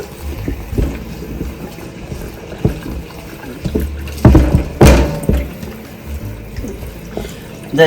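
Warm, near-boiling water poured into flour while mixing roti dough, heard as close, uneven splashing and sloshing with a louder burst of pouring midway, no talk over it.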